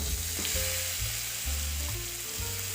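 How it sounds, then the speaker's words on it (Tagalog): Miso sautéing in plenty of hot oil in a pan gives a loud, steady sizzle and crackle that stays close and unbroken throughout, with no talking over it. "Gusto ko kasi ginigisa yung miso."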